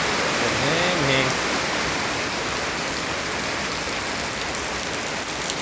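Heavy rain pours down in a dense, continuous loud hiss, with a brief voice heard faintly underneath near the start.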